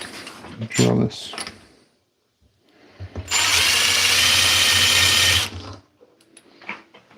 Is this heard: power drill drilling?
yes